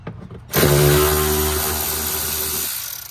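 A power drill runs steadily for a few seconds on fender liner screws of a VW Golf MK7, a loud, close motor whine that starts abruptly and holds a steady pitch before fading at the end.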